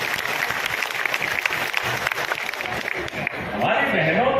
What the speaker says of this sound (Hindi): जब ताली बजाओ तो दिल खोल के बजाओ